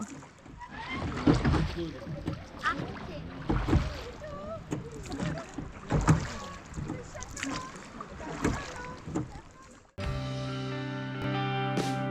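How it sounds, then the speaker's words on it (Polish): Rowing boats glide on Lago di Braies, a mountain lake in the Dolomites, with oars dipping and splashing in a steady rhythm as people talk nearby; a brief steady tonal passage closes the clip. "I skończyliśmy nasze pływanie łódeczkami"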